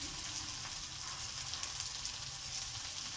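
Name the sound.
frying potatoes and prawns with salt and turmeric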